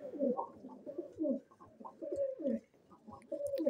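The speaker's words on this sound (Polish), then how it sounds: "Te niech se gruchają." Pigeons coo repeatedly from a loft, with layered overlapping calls in a soft rhythmic series close by, pausing briefly before resuming.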